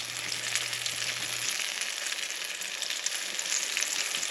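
Battered bluegill fish pieces fry in a pan, giving a steady, close crackling sizzle with dense spitting pops that holds evenly throughout, with no talking.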